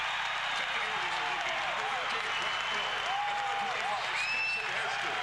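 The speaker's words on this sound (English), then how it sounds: "Listen to this crowd." A packed basketball arena crowd of about nine thousand at a college game roars and applauds in a steady, dense wash of noise, with whistles and shouts rising through it.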